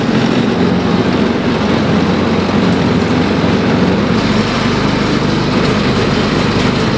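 Kawasaki KAF450 Mule utility vehicle with a converted drive train, climbing uphill with a loud, steady, high-pitched engine drone under strain, close and continuous without talk.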